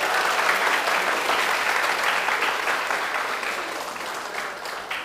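A crowd at an open mic stand-up comedy show bursts into loud, dense applause, sustained and gradually fading over several seconds with no voices on top.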